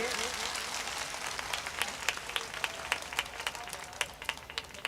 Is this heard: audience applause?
yes